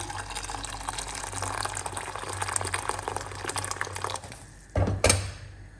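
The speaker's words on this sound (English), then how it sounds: "Adding water." Water runs steadily with a hollow rushing tone into a pot of thickening sorghum and millet porridge, then stops, followed by a couple of short knocks against the pot.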